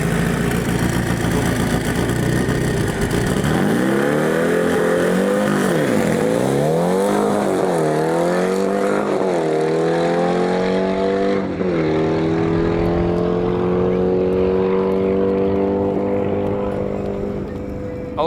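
A Volkswagen Beetle drag car with a one-piece fiberglass front end and wheelie bars, manual transmission, launches and roars down a dragstrip, its loud engine note climbing and dropping through gear changes before fading into the distance.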